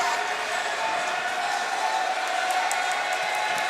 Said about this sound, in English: and now the Deerfield crowd's getting riled up